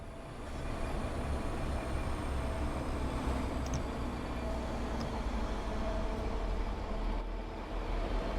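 A train running on the Fife Circle line in Train Sim World, a steady low rumble and hum of the moving train that holds constant throughout, with faint high squeals.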